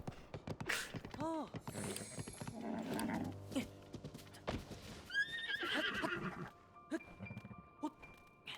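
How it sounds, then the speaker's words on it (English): Horse in The Legend of Zelda: Tears of the Kingdom lets out several loud, close whinnies with rising and falling pitch, with hoof clatter and other game sounds between them. "Last run's horse was Kyle."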